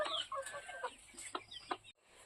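Roosters cluck and squawk softly at a distance, several short calls overlapping against faint background noise.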